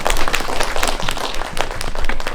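An indie film screening audience greets the director and actors with brisk, steady clapping from a nearby crowd, dense and continuous throughout.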